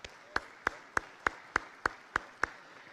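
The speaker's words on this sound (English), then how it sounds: "the convention center staff needs a round of applause for all the help they give us" A single pair of hands claps eight times in a slow, steady rhythm for the staff of a convention center, each clap sharp and distinct over a quiet room rather than full crowd applause.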